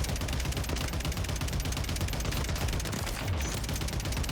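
A 7.62 variant rifle fires in Call of Duty Warzone, a continuous rapid automatic burst held for several seconds, loud and close with no talking.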